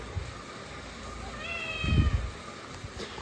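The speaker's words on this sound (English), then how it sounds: "She was meowing at the door, so we're letting her out here." A house cat meows at a door, one drawn, stressed-sounding cry rising briefly above a quiet room, fairly near and heard alone.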